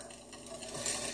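Cookie mix being stirred with soda in a container, a soft wet scraping and clinking of the utensil, close and continuous, with no voices.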